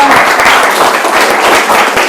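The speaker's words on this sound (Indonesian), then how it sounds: "tepuk tangan dulu buat kelompok 6" Students in a classroom applaud presentation group 6, a loud, close burst of many hands clapping quickly and continuously for about two seconds.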